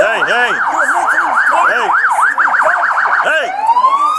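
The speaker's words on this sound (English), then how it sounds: "sirens from additional units can be heard approaching" Police sirens from additional units in Pasadena wail loudly in rapid rising-and-falling cycles, shifting pitch partway through as they draw near, with traffic noise underneath.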